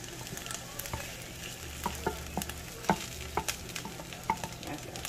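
Bell peppers sizzle and pop in a hot pan, a steady frying hiss broken by sharp crackles and stirring clicks, close and moderately loud with no voices.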